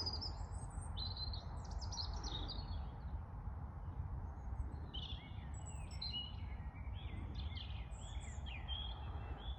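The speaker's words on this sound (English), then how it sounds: "Plenty of bird noise." Several birds chirp and sing in high, scattered calls above a steady low outdoor rumble at an evening fishing pond, with no voices.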